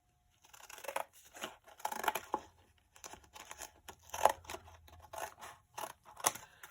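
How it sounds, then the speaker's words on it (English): Fabric scissors snip through a card journal cover in a series of crisp, close cuts, separated by brief pauses and small rustles of the card, with no talking. "I've got my fabric scissors out here"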